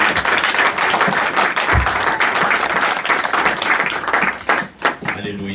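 A church congregation bursts into sustained applause and clapping during a sermon, loud and steady for several seconds before tapering off, with a voice briefly heard near the end.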